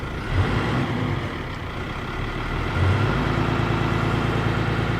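The six-cylinder engine of a rusty old Chevrolet camper revs with a deep, steady rumble that swells noticeably partway through. Nearby, loud and continuous, with no speech.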